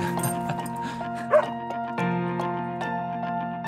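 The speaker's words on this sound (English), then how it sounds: "Good dog." A dog gives a short bark and a few whimpering yips nearby, mixed under steady tonal background music.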